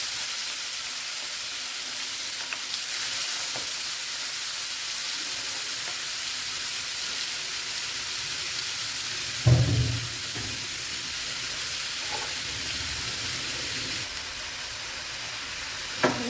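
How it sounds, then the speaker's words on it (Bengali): Boiled, drained bottle gourd frying in a pan gives a steady, soft sizzle throughout, with a brief louder stir or clatter near the middle. "লাউটা একটু ভালো করে ভেজে নেবো।"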